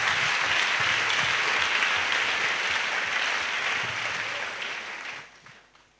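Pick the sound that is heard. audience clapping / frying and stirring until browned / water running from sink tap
audience clapping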